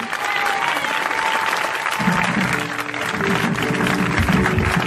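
Church crowd at an evangelistic crusade in Ebolowa, Cameroon, applauding and cheering for Jesus; dense, sustained clapping and shouting fill the room at steady loudness throughout.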